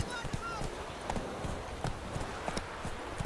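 Hooves of Geralt's horse Roach clip-clopping in The Witcher 3, a brisk steady rhythm of hoofbeats with a voice speaking over it.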